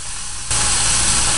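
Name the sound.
steak sizzling in pan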